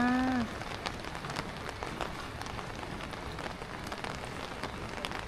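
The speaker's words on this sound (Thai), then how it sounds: "บรรยากาศดีมากฝนตกพรำๆจ้า" Light rain patters steadily on surfaces at a tent campsite in Nan, Thailand, a soft, even crackle of drops close by, with a brief voice at the very start.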